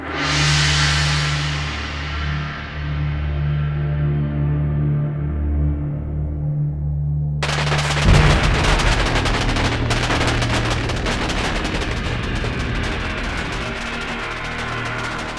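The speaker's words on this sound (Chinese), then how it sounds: "皇上，这是在放庆贺烟花呢。" Celebratory fireworks go off: a long ringing, fading tone gives way to loud, dense crackling bursts that rattle on continuously, close and harsh, with no voices.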